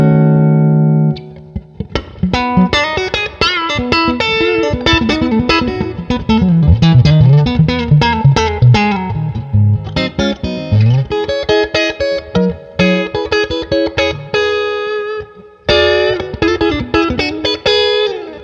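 Clean electric guitar playing a melodic line of notes and chords through a 1974 Fender Princeton Reverb tube amp, warm, bright and undistorted, with gaps between phrases.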